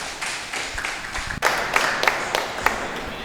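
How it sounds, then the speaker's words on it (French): Scattered hand claps from the audience at an awards ceremony, the Oscar de l'excellence prize-giving, come as a loose, uneven patter that thickens after a sharp knock midway. "Veuillez s'il vous plaît le accompagner avec vos applaudissements."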